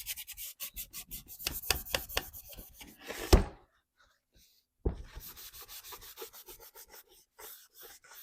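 Wax being rubbed by hand onto an old wooden cheese box, giving a rapid series of scratchy rubbing strokes, then a short pause, then lighter, steady rubbing close to the microphone.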